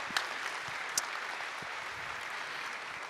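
An audience at an association's general assembly applauds, a dense, even patter of many hands at moderate loudness, with a couple of sharper individual claps standing out early on.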